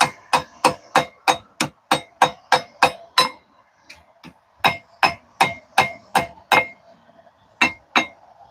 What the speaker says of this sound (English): So I'm just cross-peening the bevel down now.